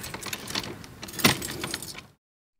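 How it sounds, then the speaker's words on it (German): Keys jingle and a key clicks in a door lock at an allotment garden museum, close metallic rattling with one sharper click before the sound cuts off. "Und da klickt schon der Schlüssel."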